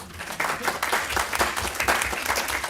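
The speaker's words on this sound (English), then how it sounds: "If y'all give him a round of applause." Round of applause for a man being introduced at a small Villa Rica public meeting, a brief burst of clapping from a few people in a room, uneven and close, no talking over it.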